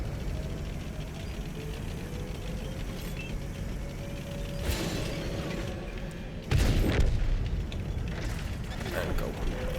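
A tank cannon fires in a World of Tanks match, a sharp loud boom at mid-clip followed by rumbling battle noise, over steady engine drone with a voice talking.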